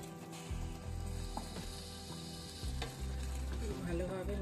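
Chicken leg pieces stirred in a frying pan, a steady sizzle of hot oil under the scrape and clatter of a spoon against the pan, close and continuous.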